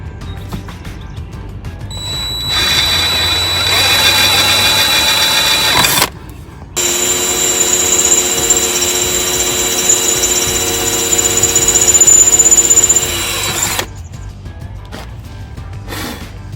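A power drill boring a hole for a prop saver bolt, a steady close whine that runs in two long stretches separated by a brief stop, loud and without talk.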